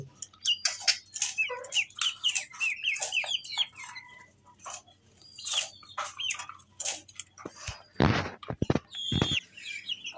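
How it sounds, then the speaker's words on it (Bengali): Native desi chickens clucking close by in a busy, overlapping series of calls, with a few louder rustling bursts toward the end. "দেশি মুরগি, পিওর দেশি মুরগি যাদের প্রয়োজন তারা নিতে পারবেন"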